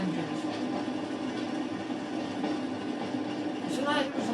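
A green Class 33 diesel train running from Darlington to Saltburn in a train simulator game gives a steady rumble and rolling rail noise, with a voice talking over it.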